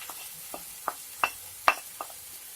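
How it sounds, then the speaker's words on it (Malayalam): Chili powder, turmeric and garam masala being stirred in a pan over a brinjal dish, heard as a handful of sharp, spaced scrapes and taps over a faint sizzle, close and fairly quiet. "ഇതെല്ലാം ഇട്ടിട്ട് നന്നായിട്ടൊന്ന് ഇളക്കി അതിന്റെ പച്ചമണം പോകുന്നത് വരെ ഒന്ന് ഇളക്കി കൊടുക്കണം"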